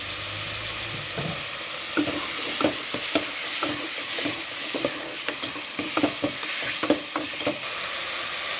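Pork being stir-fried with fish sauce in a pan gives a continuous close sizzle, with repeated scraping and clacking strokes from a spatula at an irregular, busy rhythm.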